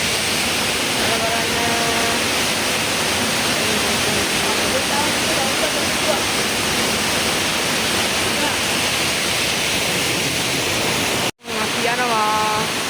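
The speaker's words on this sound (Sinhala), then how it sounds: "මේ ඇල්ල නම් ලස්සනයි කලින් ඇල්ලට වඩා." A scenic waterfall at Nalangala in Sri Lanka roars as a steady, dense broadband rush that holds for the whole stretch, cut by a brief dropout near the end, with faint musical tones and a voice faintly present underneath.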